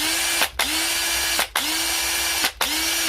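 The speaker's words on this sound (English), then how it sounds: "I'll test it on a drill." Cordless drill running on a tested, partly worn battery, whirring steadily in three near, loud bursts that each spin up and briefly stop between runs.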